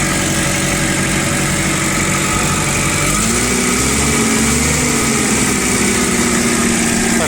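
Japanese TCM 1.5-ton forklift engine running steadily, a loud continuous idle drone with mechanical clatter throughout and a slight shift in pitch partway through, no voices.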